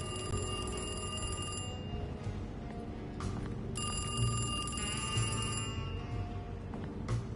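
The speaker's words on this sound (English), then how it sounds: "Phone call?" A telephone rings in the horror video game Alone in the Dark, a loud electronic bell in two long repeated bursts separated by a short pause, heard alone without talk.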